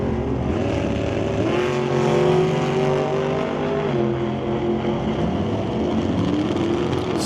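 A Chevy II and a dragster launch at a drag strip, loud engines roaring and accelerating continuously, with a steady high-powered drone and rising pitch sweeps as the cars pull away.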